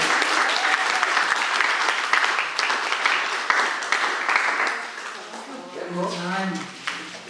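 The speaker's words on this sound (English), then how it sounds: "Big round of applause." Audience applause fills the room at a live performance, dense steady clapping that fades toward the end as a voice begins speaking over it.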